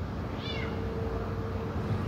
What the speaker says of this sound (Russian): Кот голосит все утро, пишут соседи.